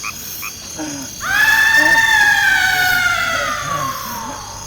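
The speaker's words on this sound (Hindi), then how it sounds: "अच्छा मोटा ताजा मुर्गा है जी।" A rooster crows once, loud and close, its long drawn-out call rising and then trailing off over a couple of seconds.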